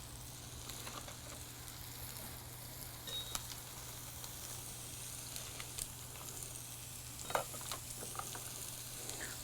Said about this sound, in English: Now we'll get that beef patty on. Again, open grate, mesquite, lump charcoal